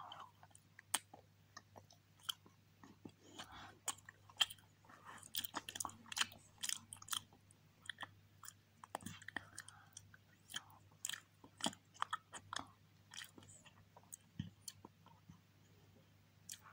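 Close, crisp chewing and crunching of small powder-coated sweets, a steady run of biting clicks and crunches over a low steady hum, with no talking.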